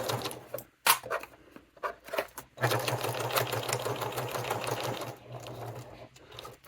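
A sewing machine stitches down a wallet seam and backstitches at the end, starting with a few short stop-start bursts, then settling into a steady close-up whirring run that stops and gives way to small handling sounds.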